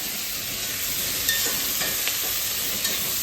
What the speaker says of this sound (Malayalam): സവാള വെളുത്തുള്ളി ഇഞ്ചി പച്ചമുളക് കരിവേപ്പില ഇത്ര സാധനം ഇട്ടിട്ടുണ്ട് കേട്ടോ ഈ സാധനം നന്നായിട്ട് വഴണ്ടോ കേട്ടോ